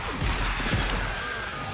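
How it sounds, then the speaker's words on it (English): Creatures bursting apart in the fantasy game Avowed, a loud crashing smash near the start followed by a second impact and a rushing whoosh, dense and close over steady game music and ambience. "those things explode"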